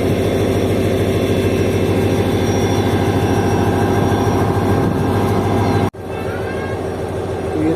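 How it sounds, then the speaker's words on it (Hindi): A passenger train hauled by an HGMU 30 diesel locomotive pulls out of Dhabeji station, its heavy, steady low engine drone loud and close throughout, briefly cutting out before resuming slightly quieter. "तो ये तकरीबन 5 मिनट रुकने के बाद ट्रेन डिपार्ट कर रही है धाबेची रेलवे स्टेशन से"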